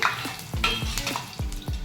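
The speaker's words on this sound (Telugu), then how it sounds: "ఇలా గోల్డెన్ కలర్ వచ్చేంత వరకు మనం బాగా ఫ్రై చేసుకోవాలి" Falafel fries in hot oil with a steady close sizzle, broken by several dull scraping stirs of a spoon or slotted ladle against the pan.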